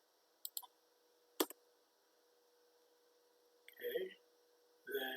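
Computer mouse clicks come in a few sharp, close ticks near the start, followed later by brief bursts of quiet speech over a faint hum.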